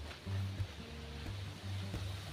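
Gusting wind roars in uneven swells during a village storm, loud and close with a low rumbling buffet, and no clear drips stand out beneath it.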